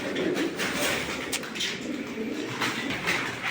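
Racing pigeons coo in soft, repeated throaty calls at close range over a faint background hiss, with no one speaking.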